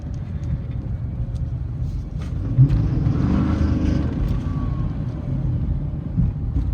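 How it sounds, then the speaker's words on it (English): A 2014 Dodge Charger PPV motor, faulty and rattling at low RPM, hums low under a wind-buffeted microphone, with a dull continuous rumble and a few faint knocks as the car drives and shifts. "the motor is rattling at low RPMs and it's shifting."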